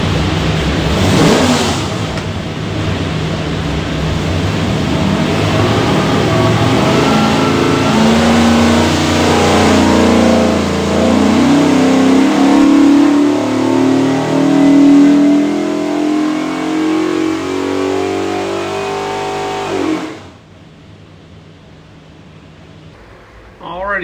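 A built Ford 427 V8 with a polished front end and rear-sump oil pan makes a dyno run: a loud, sustained engine roar that climbs through the revs for about twenty seconds before cutting off abruptly.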